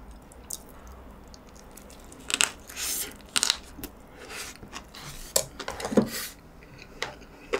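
Someone bites and chews sweet potato close to the mic at a mukbang eating show, soft irregular crunches and moist squishy chews in a quiet room with no talking.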